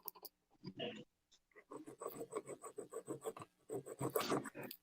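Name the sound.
hand file filing thick aluminum pipe for lightsaber hilt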